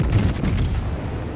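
A naval gun salvo fires from a warship in World of Warships, a deep booming blast that rolls off and decays over about a second, loud and alone with no talk.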